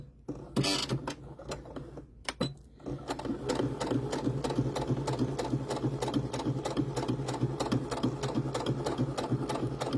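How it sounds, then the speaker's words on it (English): A sewing machine straight-stitching fabric for corkscrew curls: after a few short starts and stops, it runs in a fast, even mechanical whir-and-tick close by, steady to the end without talk. "And then it's just sewing."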